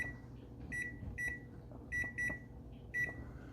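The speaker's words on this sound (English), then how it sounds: "my 15-minute timer went off" Kitchen timer going off during Chex party mix baking, a run of sharp electronic beeps in short bursts of two or three, fairly close and clear over a low background hum, with no talking.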